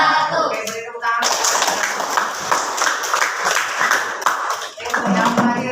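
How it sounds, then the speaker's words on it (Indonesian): Students clapping in a classroom after a group presentation, a burst of close, sharp handclaps that starts after a short pause and runs steadily, with some voices mixed in. "Oke, beri tepuk tangan."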